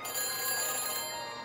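A phone rings on the line after dialing in Back to the Future: The Game, a single continuous electronic ring tone, loud and close, lasting just over a second.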